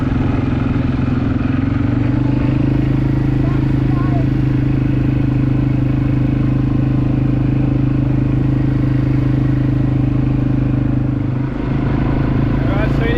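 Quad bike ATV engine idling and driving on a tour in Bali, a steady loud droning hum with rough mechanical clatter, held at a constant pitch throughout.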